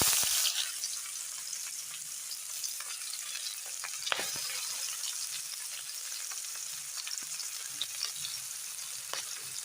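Onion, ginger and garlic fry in hot oil with a continuous close sizzle, dotted with sharp crackles and spatula scrapes, and nobody speaking.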